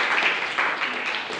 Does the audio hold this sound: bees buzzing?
no